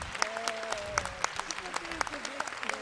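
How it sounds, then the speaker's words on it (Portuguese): An audience at a tribute event for International Women's Day applauds steadily, with dense clapping mixed with a voice speaking over it. "Eu peço um aplauso a Ivete Senise."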